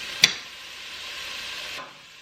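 Garlic and onions sautéing in a pan for Zuppa Toscana soup, a soft steady sizzle opened by a sharp utensil tap, then stirring hiss that fades off near the end.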